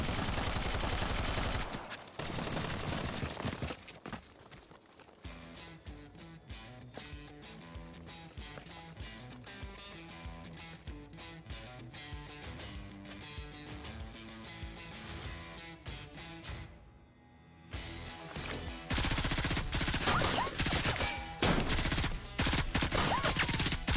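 Gunfire in a dubbed romantic drama scene, bursts of rapid shots between dramatic score, with a dense loud barrage toward the end.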